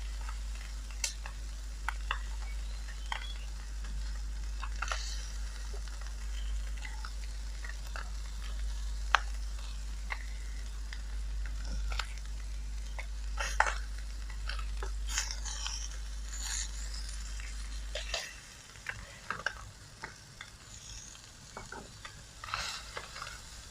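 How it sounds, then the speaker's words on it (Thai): Sausages grilling, with steady sizzling and frequent sharp pops and splatters of fat over a low hum, close and continuous throughout. "เดือดขอนเลยอ่ะเอ๋กระเด็นกระดอนใส่เราค่ะ"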